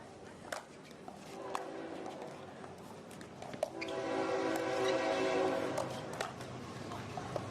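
A train horn sounds in the background near a beach volleyball match in Daytona Beach, rising midway as a sustained, layered blast that holds to the end over crowd ambience and scattered thumps.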